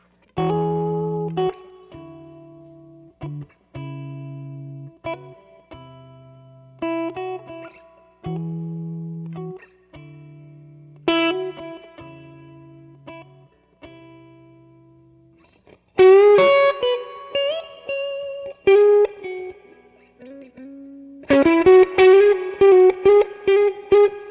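An electric guitar played through a distortion pedal, picking notes and chords in short phrases with pauses, ending with denser, grittier strummed chords.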